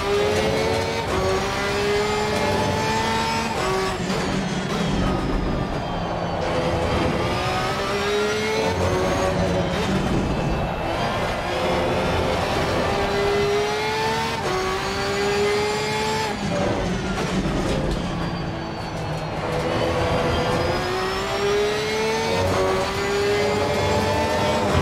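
A Porsche 992 GT3-R race car in Assetto Corsa Competizione laps Valencia, its engine climbing and falling through the gears in steady, loud revving sweeps with brief lifts for corners, continuous throughout.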